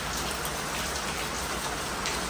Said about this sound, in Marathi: आम्हाला पाहिजे यार हा पाऊस.